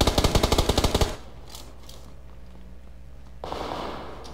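A rapid burst of about a dozen evenly spaced gunshots rings out in the PUBG Lite battle royale game on the Sanhok map. A low rumble follows, and then a softer rushing swell.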